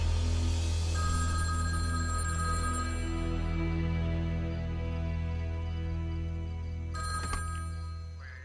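A telephone bell rings in a steady, continuous electronic trill beneath a sustained musical backing in a recorded cover track, holding throughout with a brief burst of extra brightness near the end.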